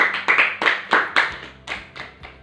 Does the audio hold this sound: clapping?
yes